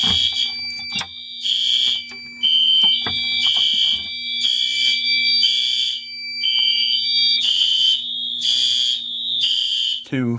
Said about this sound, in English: let's pull the fire alarm